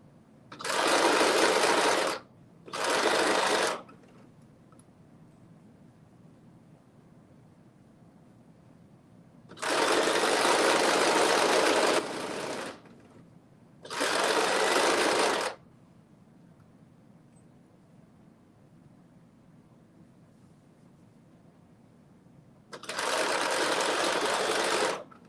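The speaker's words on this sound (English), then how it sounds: "going under the sewing machine" A sewing machine stitches fabric in several bursts of rapid stitching, some short and some several seconds long, separated by quiet pauses.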